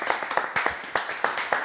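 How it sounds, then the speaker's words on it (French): Live audience clapping at a French music show's live corner, a short burst of separate, fairly close hand claps in an uneven rhythm, thin rather than a full roaring ovation. "On l'applaudit."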